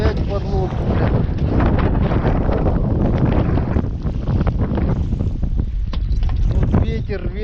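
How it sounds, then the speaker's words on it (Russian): Strong wind buffets an open vehicle out on a rainy extreme trip checking stringer lines, roaring steadily and close, with gusts and blustery turbulence throughout and someone talking over it. "Вот ветер, ёпарасоте, блин."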